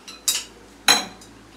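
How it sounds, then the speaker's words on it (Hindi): Metal utensils and dishes clink while being washed in a home kitchen sink, with two sharp, close clatters and a fainter clink, no talking. "इधर बर्तन धो रहे हैं"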